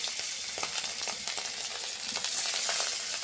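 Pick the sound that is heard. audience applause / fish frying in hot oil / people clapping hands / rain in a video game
fish frying in hot oil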